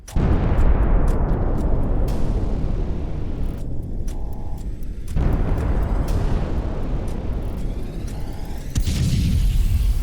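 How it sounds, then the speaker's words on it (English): Tank cannon fire and explosions as shots hit a Russian tank in a Ukrainian ambush, loud sustained rumbling blasts that swell and decay, with a heavy boom around the middle and roaring continuing throughout. "The other tank next to it fires the second shot at the Russian tank."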